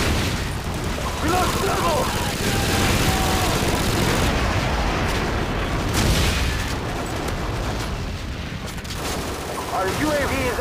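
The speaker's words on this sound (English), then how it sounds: "Friendly airstrike on the way!" Dense, continuous barrage of booms and gunfire rumbling from an airstrike in a multiplayer shooter game on a small map, loud throughout, with game announcer voices talking over the blasts.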